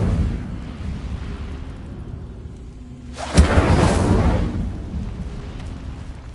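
A fiery Incendio spell blast in Hogwarts Legacy bursts midway as a single loud whooshing eruption of flame, then fades out over a low rumbling background.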